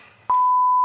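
After a brief quiet, a BabyPlus prenatal education device starts a single clean steady electronic beep tone abruptly and holds it, close and clear.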